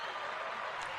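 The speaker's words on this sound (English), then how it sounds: "Clapping. Applause." Applause sound effect, a dense burst of many hands clapping at once, held at a steady, fairly loud level for about a second.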